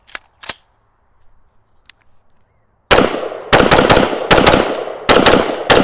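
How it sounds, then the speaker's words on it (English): A 300 Blackout rifle fired at an outdoor range: a few faint clicks, then a run of about five loud, sharp shots in quick succession, each with a short ringing decay. "my favorite little buddy, the 300 Blackout. So let's put a few shots through it."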